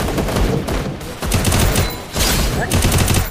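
Gunfire in a mobile shooter video game comes as loud, dense volleys broken by short gaps, with a voice faintly underneath.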